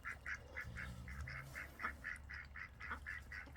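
Ducks quack in a quick, steady string of about a dozen calls while a rooster chases them, fairly faint against a low background rumble.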